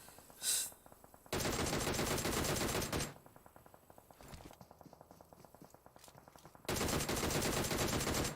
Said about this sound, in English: Putting the shots into Carrasco